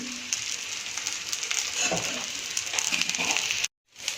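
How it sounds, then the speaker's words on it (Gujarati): Eggplant fries in oil for begun bharta while being turned with a knife or fork, giving a steady bright sizzle with occasional scrapes and knocks before cutting off abruptly near the end. "આ રીતે આપણે નાઈફની મદદથી કે કાંટાની મદદથી આપણે આ રીતે એને ચારે બાજુ ફેરવી અને ફ્રાય કરવાના છે"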